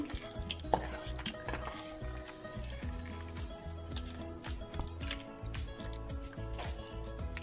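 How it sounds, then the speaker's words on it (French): Eggs are stirred into a potato soufflé mixture, a spoon scraping and tapping in a bowl in soft, irregular strokes, faint and close, with a low hum throughout. "Et je remue."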